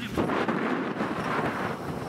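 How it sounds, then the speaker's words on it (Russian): Strong wind buffets the microphone outdoors over ice on an off-road drive, a loud steady roar and rumble with no voices. "Самое интересное, ветер сильный."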